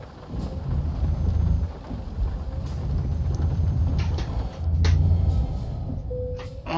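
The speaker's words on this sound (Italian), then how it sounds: "Ancora che piove, che domaroni." Steady rain in Euro Truck Simulator 2, a continuous wash of drumming with low rumbles and a few sharp ticks, heard alone without talk.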